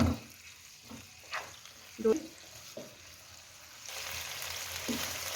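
Garlic-ginger paste fries on a medium flame in a pan for Pakistani chicken white karahi, giving a soft steady sizzle with a few light stirring scrapes, quiet and close, rising to a fuller hiss near the end.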